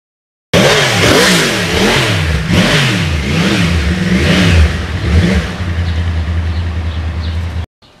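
A 2009 Yamaha R1 crossplane motorcycle engine accelerates hard on a ride, its loud, close roar rising and falling through several gear changes before settling into a steadier drone and cutting off abruptly.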